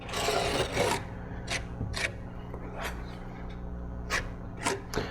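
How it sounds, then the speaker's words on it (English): Fiberglass resin being smoothed along the edge of flashing on a fiberglass sun deck, with repeated short rasping, rubbing strokes in an irregular rhythm, close and moderately loud. "Just putting it on fairly rough and then coming along smoothing it off afterwards"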